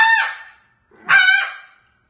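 A Ya Ya Calls "Traffic Control" snow goose call is blown hard with diaphragm air, giving two loud, close, harsh honks separated by a short pause.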